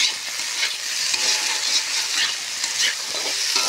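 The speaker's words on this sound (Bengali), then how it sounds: "তারপরে তরকারিটা ফুটে যাচ্ছে" Curry bubbles in a pan with a steady, close sizzling hiss, broken by faint stirring scrapes, and no one speaks.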